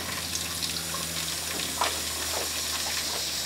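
Hot water gushes steadily from a tap on a boat whose engine coolant runs through the water heater, a close, continuous splashing rush into a sink with no talking.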